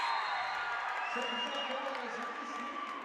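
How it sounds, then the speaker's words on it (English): A crowd at a high school girls' basketball game roars steadily throughout, cheering and applauding loudly and continuously after a made shot in the gym, with a commentator's voice mixed in. "Crowd got pumped."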